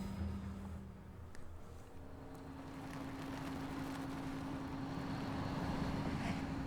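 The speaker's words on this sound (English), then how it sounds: "I'm not about to turn the engine off again." A car engine idles and runs in a video game, a steady low rumble with a constant drone that slowly grows a little louder, alone without talk.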